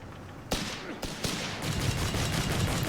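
Gunfire in the World War II strategy game Company of Heroes 3 during a 1v1 pro league match: sharp, loud shots at about 0.5, 1.0 and 1.25 seconds, then a steady rattle of rapid fire, with faint voices underneath.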